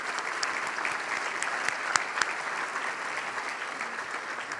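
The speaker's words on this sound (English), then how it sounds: "Let's give a round of applause to the Cornhusker Hotel" Banquet audience applause at a business celebration, steady even clapping at moderate distance with a few sharper individual claps standing out, no voices over it.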